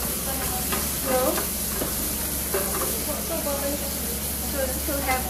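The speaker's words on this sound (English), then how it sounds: "Just keep some butter over the fire. And add your sliced onions." Sliced onions sizzle steadily in melted butter over a low fire for caramelizing, a continuous close frying hiss with occasional stirring, while a voice talks over it.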